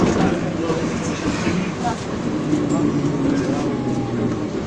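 Interior of a route 4 tram in Vinnytsia while riding: steady loud rumble of the moving car with rattling and faint squeaks throughout, people talking over it.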